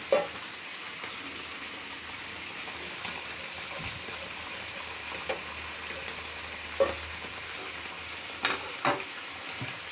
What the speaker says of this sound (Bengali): মশলাটা মোটামুটি কষানো হলো